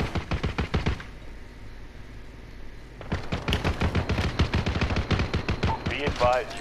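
Rapid automatic gunfire in a first-person shooter game, sharp bursts of shots near and loud, a short pause, then another long burst, with brief voice chatter near the end.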